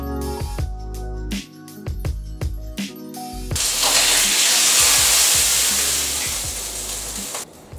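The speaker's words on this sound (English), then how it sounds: "letting that steak cook for around 5 minutes on the frying pan" A steak sizzles in a hot frying pan, a loud sustained hiss and crackle that swells after a few short knocks and fades toward the end.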